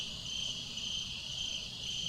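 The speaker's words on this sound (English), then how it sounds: "The crickets and whatever it is sound really nice." Crickets chirping at night, a steady, high, shimmering trill from several insects that runs unbroken and fairly faint, with no voices over it.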